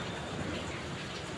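Steady, soft patter of rain fills the clip evenly, a continuous hiss with no voices.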